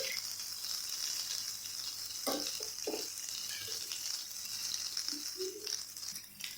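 Slices of elephant yam fry in a pan, sending up a continuous hissing sizzle with a few light clinks and bubbling pops, close by and moderately quiet.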